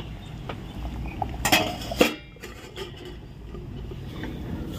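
A lid goes onto a pan of fish dressed in raw mustard oil, with a couple of sharp clanks and clatters close by, then a quieter background with soft kitchen rustling.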